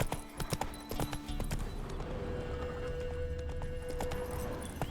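Hooves clip-clop as the horse Roach gallops in The Witcher 3 video game, a fairly steady, close hoofbeat rhythm under background game ambience.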